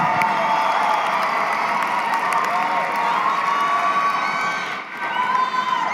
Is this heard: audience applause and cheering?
yes